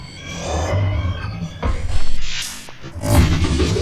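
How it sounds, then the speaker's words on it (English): A glitch maker device in Bitwig produces an evolving texture of grainy, stuttering noise with low rumbling throbs and swelling bright hiss, shifting in bursts over a few seconds, with no talking. "I've got this glitch maker that is pretty much just something that I can use to make a lot of different textures with"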